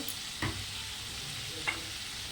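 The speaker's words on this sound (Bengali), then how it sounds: "এবার মশলাটাকে আমি সুন্দর করে একটু কষে নেব" Spice paste frying in a pan for a prawn and taro-leaf dish, a steady close sizzle with two quick spatula scrapes, no voices.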